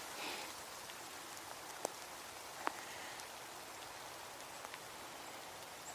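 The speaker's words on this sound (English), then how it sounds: "you're hearing the rain" Steady rain falls with a constant hiss, and a few louder drips tick sharply now and then; no voices are heard.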